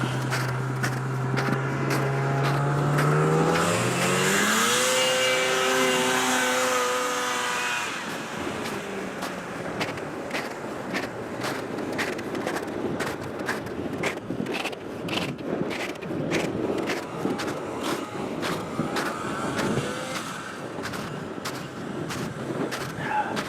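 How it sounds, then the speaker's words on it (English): An antique snowmobile engine revs with a rising harmonic whine, then settles into a rough, ticking run with sharp repeated clicks, heard nearby outdoors. "That snowmobile is an antique."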